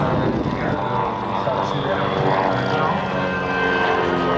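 A Vought Corsair propeller plane's engine drones loudly and continuously at an air show, a rough rumbling roar that stays steady throughout.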